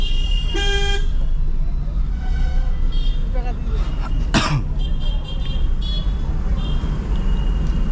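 Car horn honking several times during an evening city drive through Kalyani in the Durga Puja season: short harmonic toots over steady road and traffic noise, with people talking inside the car.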